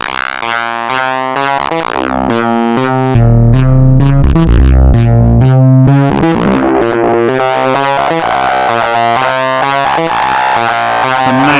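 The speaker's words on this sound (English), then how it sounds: "Some distortion" Xaoc Devices Belgrad filter module pushed into distortion, a loud, gritty, harmonically dense synth line with shifting notes and a heavy low-end surge midway, sustained throughout with no talk.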